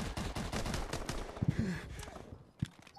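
Rapid shooting in Advanced Warfare EXO Survival rattles steadily, fairly close, with quick repeated shots that thin out toward the end and a few sharper individual cracks.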